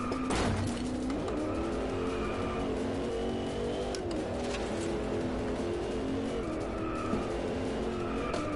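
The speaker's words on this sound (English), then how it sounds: "Drifting around that corner like a baller." A car in the Driveclub racing game, played in VR with a steering wheel, drifts around a corner with long, loud tire squeal and skidding over a droning engine. The sweeping squeal holds for several seconds with no voices.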